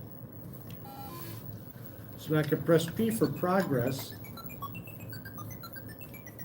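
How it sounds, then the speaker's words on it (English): Electronic beeping chirps voice the Woodstock character in a video game, a quick run of tonal bleeps sounding close and clear, with a person talking over and around them. "that beeping is what Woodstock says"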